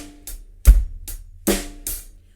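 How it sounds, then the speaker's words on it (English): Drum kit playing a basic 8th-note rock groove, with deep kick thumps and bright snare and cymbal hits in a steady pattern, close and alone without any talk. "solid 8th note rock groove sounds like this"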